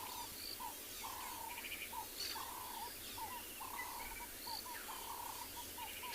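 Birds call on a South African safari morning, with repeated short chirping phrases at a moderate distance over a constant background of insect trilling and faint ambient hiss, with no voices.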